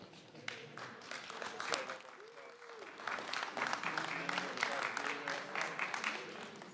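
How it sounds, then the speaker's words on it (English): Applause from an audience at a small room demo event for a mobile VR learning project, a steady moderate patter of many hands lasting several seconds, with a voice or two faintly audible underneath. "We'll give this team a big round of applause."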